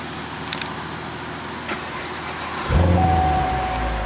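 A Chevrolet C7 Corvette Stingray starts up: after a quiet interior with a few small clicks, the engine catches with a sudden loud burst and settles into a deep, steady idle rumble close by.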